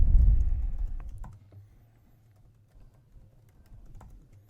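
Soft computer keyboard keystrokes tapping irregularly at a quiet level as a password is entered, following a brief low rumble at the start.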